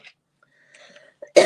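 A single sharp cough from a woman who has the flu, loud and close after a near-silent pause.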